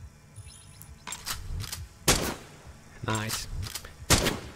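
Sharp sniper gunshots in the VR game STRIDE, several separate cracks spaced about a second apart, fairly close, with a brief spoken remark among them.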